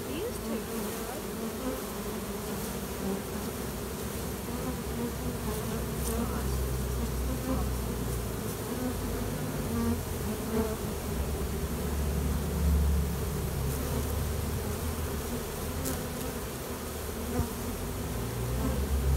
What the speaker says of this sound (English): I want to get those bees taken care of.